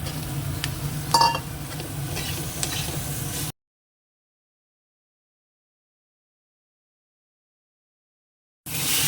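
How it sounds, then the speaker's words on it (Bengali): Fish fries in a pan with a steady, soft sizzle and a few light utensil clinks; the sound cuts out to silence and then returns briefly at the end. "এবার মাছটা ভেজে দেবো"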